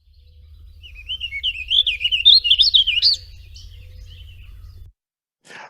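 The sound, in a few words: warbling vireo song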